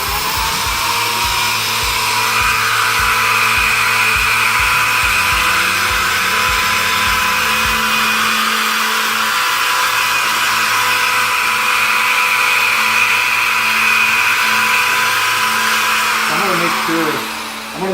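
A cheap Harbor Freight power drill whirs steadily and loudly for the whole stretch, sanding a 2003 Infiniti G35 headlight with 3M sandpaper, its pitch shifting slightly as it works, then winds down at the end.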